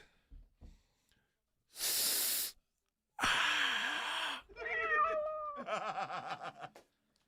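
A cat lets out several drawn-out, wavering meows near the end. Before them come two loud bursts of breathy hissing or sighing noise, with a few quiet knocks at the start.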